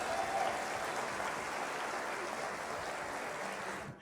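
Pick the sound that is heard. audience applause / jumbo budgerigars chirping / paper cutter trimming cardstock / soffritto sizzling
audience applause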